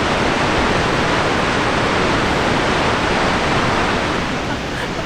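Kaieteur Falls in Guyana roars as a dense, continuous wall of broadband rushing water, loud and unbroken throughout, with a hint of wind buffeting against it.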